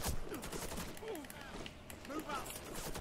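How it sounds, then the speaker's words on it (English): An MP5 submachine gun fires in the Warface shooter game on Xbox, producing rapid automatic bursts mixed with other game gunfire and effects, continuous and fairly busy throughout. "Dude, this MP5, I love the MP5."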